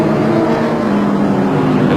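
Racing Suzuki motorcycles roar past during a race, a loud steady engine drone with a sustained high whine.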